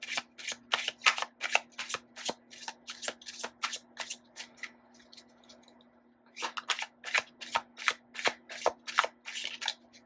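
Tarot cards are shuffled by hand in a fast run of sharp, rhythmic riffles and snaps, close and clear. There is a brief pause before the quick shuffling starts again.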